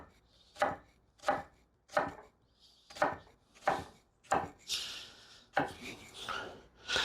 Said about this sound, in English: Now we want this to be nice and finely chopped. So we are making nice thin slices here.